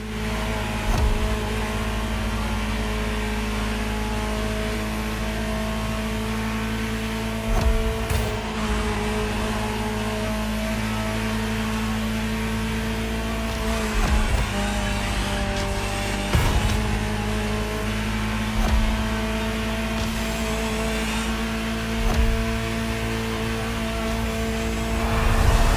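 A Ferrari engine drones steadily while driving in the racing game The Crew Motorfest, a loud sustained tone with brief shifts and swells in revs, heard alone without voices.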